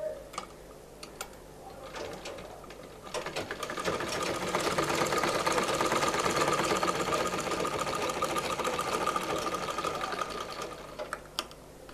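An electric sewing machine stitches a seam on a six-panel petticoat, its rapid mechanical whirring and ticking rising into a steady run in the middle, with brief stops and clicks at either end and no voices.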